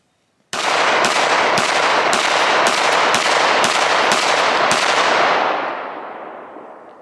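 Nine rapid, evenly spaced pistol shots from a Springfield SA-35, loud and close, each with a sharp crack and ringing tail, followed by a fading echo.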